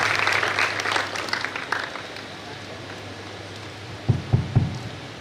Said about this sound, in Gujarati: જોરદાર તાળીઓથી એમનું સ્વાગત કરીએ.